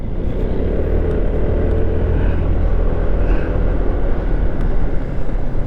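A car driving along the winding zigzag Nueva Ecija–Aurora road, its engine and road rumble steady and close throughout, with no talking.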